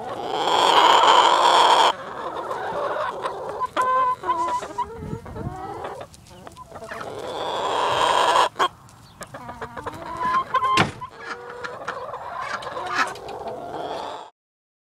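Chickens clucking close by, a flock giving repeated choppy clucks and squawks in uneven bursts with short gaps between them.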